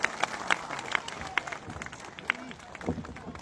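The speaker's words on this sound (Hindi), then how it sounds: "तालियां बजाइए सब मिलकर" Crowd clapping at a party workers' felicitation ceremony in India, a scattered burst of hand claps at moderate distance, uneven and thinning out, with a voice briefly audible underneath.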